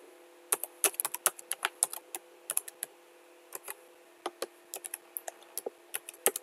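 A computer keyboard clicks in quick, uneven bursts as a PowerShell script is typed, crisp close keystrokes separated by short pauses over a quiet hum, with no speech.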